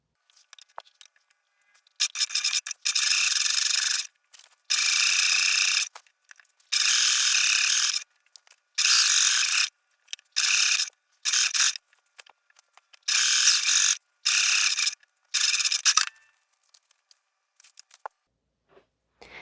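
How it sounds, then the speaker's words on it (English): A sewing machine stitches a woven dress placket in a string of short, sharp bursts of varying length separated by silences, its motor whirring high and close. "Do the first couple stitches there and then continue down to your stopping point."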